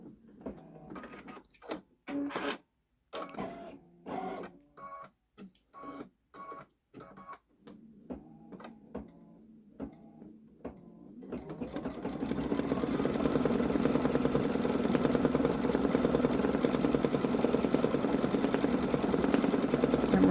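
A Babylock Solaris Vision Journey embroidery machine stitching a large design onto jeans: short separate bursts at first, then a steady, rapid, droning needle rhythm that settles into continuous close running.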